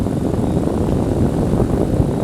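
A small plane's engine drones at reduced throttle while coasting in flight, a loud, steady, broadband rumble heard close from inside the cabin with no talk.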